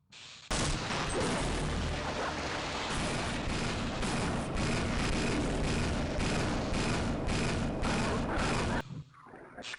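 Tank cannon fire in Half-Life on PS2, blasting a hole through a gate: a sudden loud blast that opens into a sustained, dense roar of heavy gunfire and explosions lasting about eight seconds, then cutting off abruptly.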